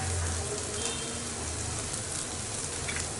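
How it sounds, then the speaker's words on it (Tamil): Beaten egg poured into a hot pan for street-style kothu parotta sets off a loud, steady, close sizzle that fills the whole moment, with no talking. "இப்போ இதில் நம்ம ஒரு முட்டையை நல்லா உடைச்சி இதில் ஊற்றிருக்கோம்"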